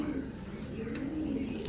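Pigeons coo softly and steadily in a loft kept for young birds, a low, continuous murmur with a couple of faint higher chirps, fairly quiet and without talk.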